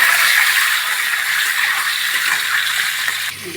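Eggs frying in oil, a loud, close, dense hiss of spattering fat that runs steadily and eases off slightly at the end, no one talking.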